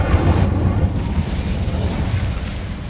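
Incendio fire spell blast in Hogwarts Legacy, a loud, dense rumbling burst with crackling texture that persists for a few seconds without trailing off.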